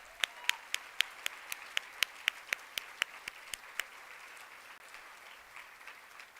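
Sparse, rhythmic clapping at an awards celebration for finalists, sounding like a single pair of hands or a few people clapping evenly for about four seconds before fading into quiet room tone, faint and distant.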